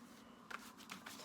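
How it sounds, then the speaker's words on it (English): A deck of power animal oracle cards shuffled by hand gives a few soft, faint papery riffles in quick succession, close by with no talking. "So I do three more conscious shuffles"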